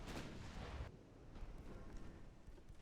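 Warship guns firing in a 1910-era German naval battle in Ultimate Admiral Dreadnoughts: a heavy booming blast with rumbling low-end tail, followed by softer distant thuds and rumble.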